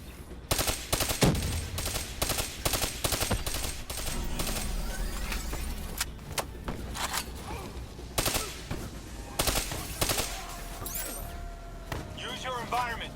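Rapid bursts of automatic gunfire crackle in a Call of Duty: Black Ops 3 match, sharp shots repeating in uneven clusters among explosions, with game voices calling out between volleys.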